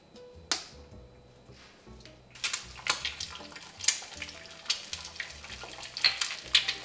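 Eggs crackle and sizzle in hot olive oil in a pan for Mediterranean fried eggs, a steady close frying hiss dotted with sharp spatters, starting faint and growing busier after a couple of seconds.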